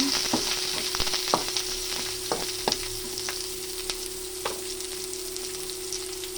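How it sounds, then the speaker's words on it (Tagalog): Chicken wings fry in oil with a steady sizzle, scattered crackles and pops, a constant hiss of hot oil running throughout, fairly close and moderate in level. "isasingit ko na lang yung pinag-videoan ko kanina ng pag-prito ng chicken wings"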